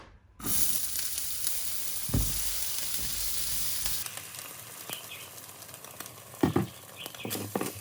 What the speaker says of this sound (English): I'll also cook my lunch with cleavers, a bit of a stir fry with rice